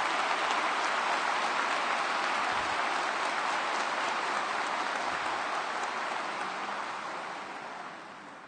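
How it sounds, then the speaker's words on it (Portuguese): Sustained applause from a large audience honouring 35 university rectors at an opening ceremony, dense steady clapping that fills the hall and gradually fades toward the end. "Queria pedir uma salva de palmas para os 35 reitores que também estão inaugurando hoje novos campos"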